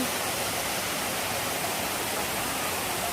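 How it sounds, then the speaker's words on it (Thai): Phlio Waterfall in Chanthaburi pours from a height in a dense, unbroken roar of falling water, loud and close, with no voices over it. "น้ำตกพริ้วค่ะ สวยสวยค่ะ"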